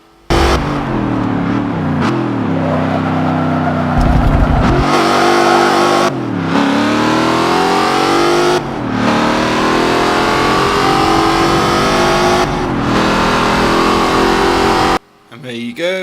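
A British Racing Green Aston Martin Vantage race car in Forza 7 roars loudly through repeated rising gear-by-gear acceleration runs, with brief drops between shifts and a short pause near the end.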